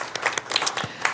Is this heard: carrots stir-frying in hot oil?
no